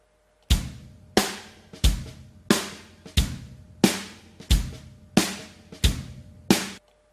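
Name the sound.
EZDrummer drum kit mix with overhead channel added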